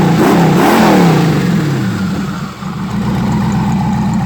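A smoking, tired Chevrolet Impala engine revs hard nearby, its pitch climbing and then falling as it drops back toward a rough, loud idle.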